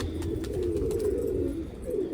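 Pigeon cooing close by, a low steady murmuring call that runs throughout, with light ticking and rustling around it.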